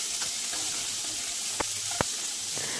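Cashew pieces and raisins fry in a pan for thin moong dal, giving a steady broadband sizzle with a few sharp clicks of stirring, close and unaccompanied by talk.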